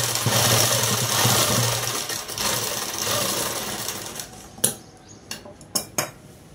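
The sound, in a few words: sewing machine stitching a dress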